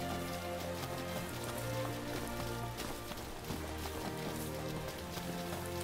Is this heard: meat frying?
no